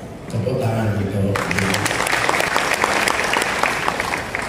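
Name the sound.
audience applause at ministry event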